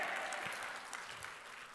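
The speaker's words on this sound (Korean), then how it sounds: "그렇게 믿는 분만 크게 아멘하고 박수" A church congregation claps together after a sermon call, a brief, fairly quiet wash of many hands applauding steadily.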